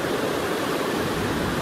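Water rushing steadily along a canal after a Category 5 hurricane, a continuous broad hiss close by with no breaks and no voices over it.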